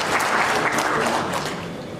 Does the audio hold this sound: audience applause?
yes